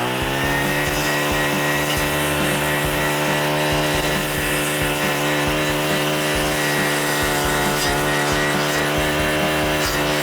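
A brush cutter with a blade attachment cuts through a thick tree branch, its engine droning loud and steady at high revs for the whole stretch with no pauses.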